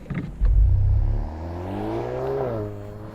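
A Volkswagen Golf R car pulling away at a drag race, a close low engine burst that eases into a steady rising drone, with the pitch climbing toward the end.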